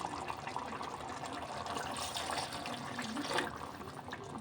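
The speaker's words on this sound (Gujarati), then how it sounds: "તો એટલું આપણે પાણી ઉમેર્યું છે" Water is poured into a pot of simmering desi chicken curry, a faint, steady splashing trickle that runs for a few seconds on its own.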